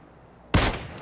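A single sharp gunshot bursts in from a near-silent start during PUBG gameplay, probably from a Kar98k rifle, with a loud crack and a short ringing decay.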